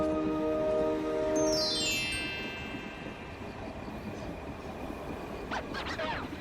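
A cartoon train runs along with a sustained rumbling rail clatter and a whistle-like tonal blast that falls away, then continues steadily with brief higher squeaks near the end.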